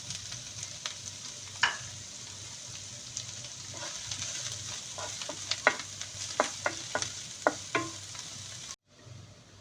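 Spring onion bulb, chopped onion and chilli fry in a pan for vegetable fried rice, giving a steady low sizzle broken by scattered spatula clicks and stirring scrapes until the sound abruptly cuts out near the end.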